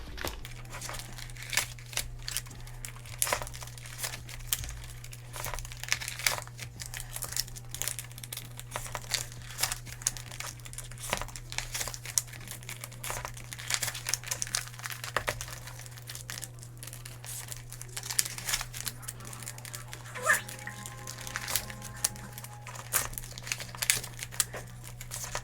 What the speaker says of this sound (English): give me one moment while I unstuff these envelopes